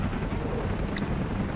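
A helicopter gunship in Command & Conquer Generals Zero Hour gives off a steady, low rotor rumble that stays fairly faint and even, with no speech over it.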